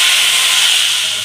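Chopped tomatoes hitting hot mustard oil with dried red chillies for a tomato chutney, giving a loud, steady, close hiss of sizzling that fades slightly toward the end.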